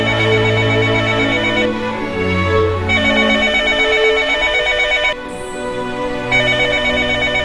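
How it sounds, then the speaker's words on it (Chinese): A telephone rings over and over unanswered, loud, close electronic ringing in repeated bursts with brief pauses between them. "姥姥，怎么不接电话呢？"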